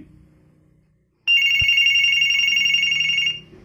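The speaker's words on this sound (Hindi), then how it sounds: "अब मैं इस फ़ोन की आपको रिंग सुना देता हूँ बहुत ही प्यारी रिंग है फ्रेंड्स इस लैंडलाइन फ़ोन की भी" A corded Binatone landline telephone rings after a moment of near silence: one loud, bright electronic ring burst lasting about two seconds, then it cuts off.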